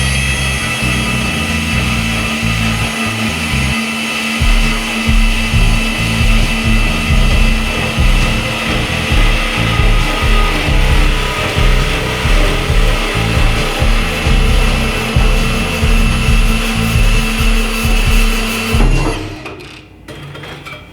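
A cordless Portaband band saw cuts through steel door bar tubing for a 1969 Camaro Art Morrison swing-out door bar kit, a loud, close, continuous grinding whine with a pulsing rasp that runs steadily before cutting off near the end.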